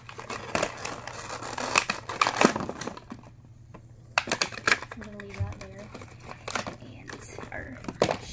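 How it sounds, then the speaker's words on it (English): Scissors snip and crunch through plastic toy packaging for Shopkins, with crinkling and tearing in irregular bursts up close, while people talk softly. "I think I'm gonna need some scissors."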